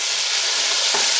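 Salchichón sausage frying in a pan for Puerto Rican rice with pigeon peas, giving a steady, even sizzle and hiss with no voices.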